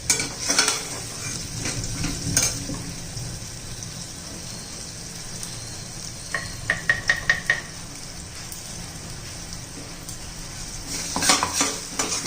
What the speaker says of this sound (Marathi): आता आपण हे जे खोबरं सुक्कं बारीक करून घेतलेलं आहे ना ते घालू. ते पण हे तेलामध्ये चांगलं परतून घ्यायचे.